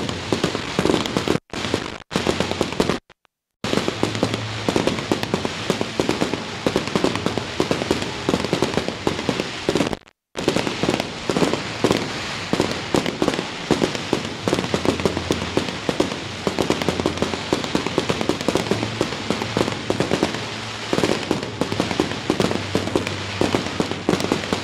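Fireworks closing the Santa Lucia festival in Belpasso, a dense, loud barrage of firecracker bangs and crackling that runs almost continuously, broken only by a few brief gaps.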